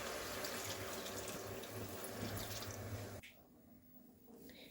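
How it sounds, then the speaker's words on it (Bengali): Water splashes in a steady stream into a cooking pot of chicken pulao, heard close but at low level, then cuts off abruptly, leaving faint kitchen room noise. "এবার আমি এটার মধ্যে জল দিয়ে দেব।"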